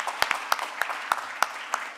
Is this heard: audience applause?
yes